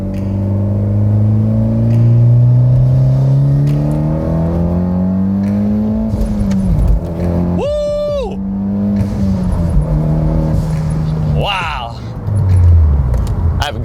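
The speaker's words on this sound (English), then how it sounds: "I'm gonna take off from second gear and I'm gonna see how much power I can get with it." Mitsubishi Lancer Evolution X GSR pulling hard from second gear, a loud close engine note climbing steadily in pitch, easing at a gear change, then rising again, with wind rumble underneath.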